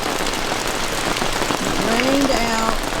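Rain falls steadily on a campsite in the Grayson Highlands, a dense, even patter that fills the whole stretch, with a faint whining tone and some light movement rising partway through.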